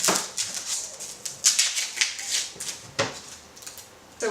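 A knife gives a quick rough chop through a medium yellow onion on a cutting board, a run of light, irregular taps and cuts close by with short pauses between strokes and no talking.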